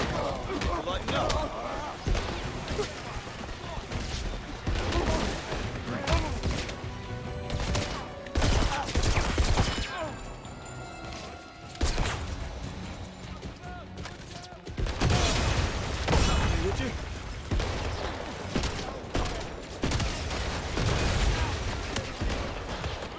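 Bursts of gunfire and impacts crackle through a James Bond 007 video game shootout in rapid, loud clusters, with a player talking over the action at times.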